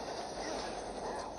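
A train in the video game Red Dead Redemption 2 rolls along with a steady, dense rumble and rattle, continuous and fairly loud throughout, with no clear breaks.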